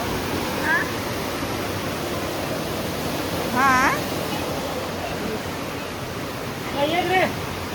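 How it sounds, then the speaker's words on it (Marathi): Steady broadband rush of flowing water fills the clip, with a few short birdlike chirps rising above it. "आता सकाळी इतका खळखळाट आवाज येतोय"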